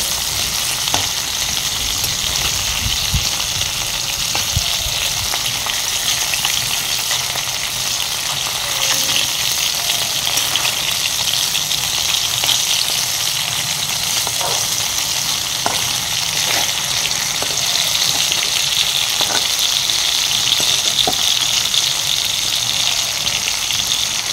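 Whole spices and potato curry frying in mustard oil in a pan on a gas stove, with a steady, close, loud hiss of sizzling oil running throughout and occasional small pops and stirring ticks.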